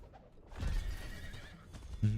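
A horse neighs in the video game Diablo IV, a short whinny rising over quiet game ambience, followed by a soft hoof clop at the end.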